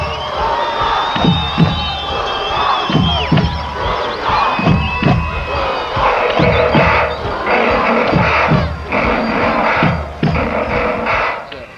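Bulldogs fans roar at a 1999 high school football championship game, a loud, close crowd of shouting and cheering with rhythmic chant-like surges and thumping beats throughout.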